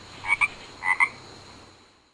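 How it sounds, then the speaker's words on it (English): Frogs croak in two quick pairs of short, bright calls, with a pause between the pairs, then a faint fading tail and no voices. "Frogs on a log."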